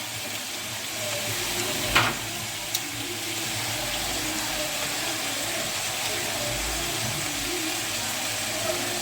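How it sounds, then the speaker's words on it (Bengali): Vegetables frying in oil with chillies, salt and turmeric for pui shak paturi, giving a steady, even sizzle throughout with a brief clink near the start and no talking. "ভালো করে তেলের মধ্যে সবজিগুলোকে ভেজে নিচ্ছি।"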